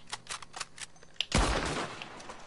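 Rapid light shots ring out while hunting in Red Dead Online, a quick series of snappy cracks followed by one loud, heavy blast that rolls off into a fading echo.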